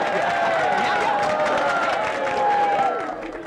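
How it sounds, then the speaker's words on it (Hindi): An audience applauds during a Hindi film, with steady, dense clapping and some crowd noise that hold level and then fade slightly at the very end. "तालियां।"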